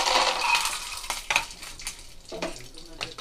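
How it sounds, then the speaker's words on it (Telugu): Peanuts frying in well-heated oil in a pan for a puffed rice masala mixture: a steady, close sizzle with scattered clinks and scrapes of a spatula stirring against the pan. "ఇప్పుడైతే మనం అందులోకి పల్లీలు అయితే యాడ్ చేస్తున్నాను."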